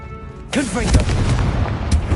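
A short voice is followed by a sudden loud blast from the Confringo fire spell in Hogwarts Legacy. Its rumbling, crackling roar sustains for over a second and a half, with a second smaller burst near the end.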